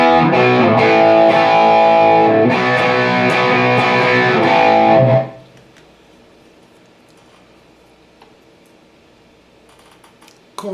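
Electric guitar plays the third chorus of a song with a thick distorted tone for about five seconds, then cuts off abruptly to near silence with faint background noise.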